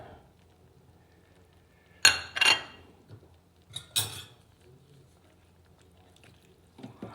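Chopped tomato being added to and mixed into a pot of samp and beans: a few sharp clinks of a utensil against the pot, then softer scrapes and stirring amid quiet gaps.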